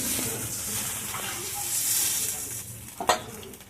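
Kachur bora drop into a pan of water at a rolling boil, giving a continuous bubbling hiss with a sharp splash and clatter near the end.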